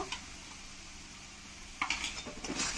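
A spoon taps and scrapes in a pan as ginger, cumin and chili paste go in over sautéing onions for a rohu fish jhol, with a few quiet clinks and then a louder cluster of metallic scraping, with no talking.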